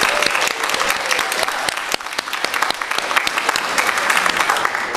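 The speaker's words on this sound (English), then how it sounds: "a round of applause to" A church congregation at a Sunday service breaks into loud, dense applause that holds steady for several seconds, filling the room without any voices standing out.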